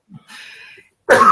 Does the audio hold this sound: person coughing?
yes